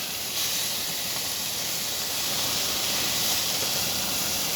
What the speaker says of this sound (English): allow the spatula to bend so you can scrape off that crust that formed on the bottom of the burger. And then I'm going to flip.